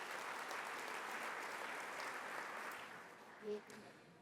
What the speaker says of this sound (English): Let's have a round of applause for our sponsors.